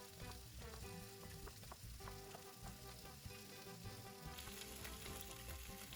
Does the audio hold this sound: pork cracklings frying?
yes